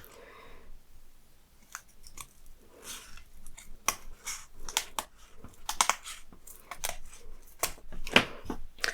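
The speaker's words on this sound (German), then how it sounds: "Keine Stoffschere. Papierschere." Paper scissors cut through paper for a DIY paper box in a run of close, crisp snips and crunchy scraping strokes, irregular in rhythm, with no talking.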